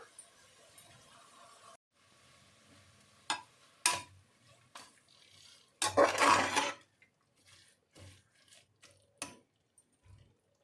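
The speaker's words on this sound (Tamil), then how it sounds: "இப்போ இதையும் சேர்த்து நல்லா வதக்கிடலாம்." Tomato sautéed with mint and coriander leaves in a pan, heard as intermittent spoon scrapes and metallic clatters against the pan with a faint background hiss, close and moderately loud, with no talking.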